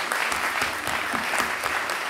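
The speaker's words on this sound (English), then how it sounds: "Can I have a massive round of applause for Dan" An audience applauding at a live talk event, steady clapping from many hands filling the whole stretch at an even level with no voices above it.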